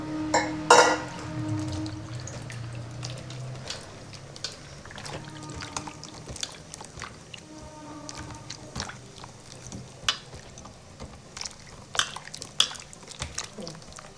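Cut mushrooms washed a second time in a vessel of water, with close splashing, squishing and clinking of the bowl and a few faint voices in the background.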